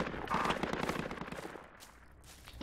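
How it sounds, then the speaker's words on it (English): Rapid bursts of automatic gunfire crackle at mid distance in the video game Project Reality, dense and continuous at first, then thinning into scattered shots. "Those are alive, the sound gunfire."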